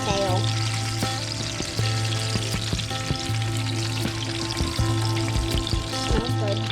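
A fish tail fries in a hot pan at a Dana Point dock, a continuous close sizzle and crackle with scattered clicks and scrapes from stirring, and a low steady hum underneath.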